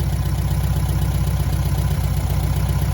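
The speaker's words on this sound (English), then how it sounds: "At least it runs and idles" A VW Beetle engine idles steadily, its low rhythmic pulsing loud and close with no other sounds over it and no voices.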